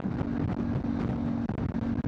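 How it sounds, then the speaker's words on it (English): Constant blustery wind buffets the microphone with a low rumble and a faint steady hum underneath, no voices. "it's very windy down here"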